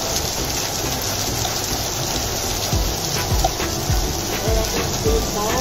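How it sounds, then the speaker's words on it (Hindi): Heavy rain pours down in a steady, dense hiss with scattered heavier drops and splashes, loud and close throughout, with faint voices in the background. "ये देखिए कितनी मोटी मोटी बारिश हो रही है"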